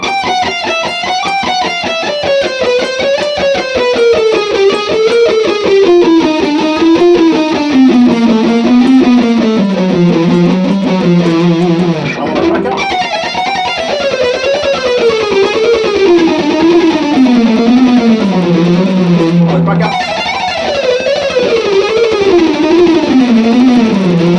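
A distorted electric guitar plays a rapid, repeating ten-note chromatic picked figure that descends step by step, restarting twice, loud and unaccompanied.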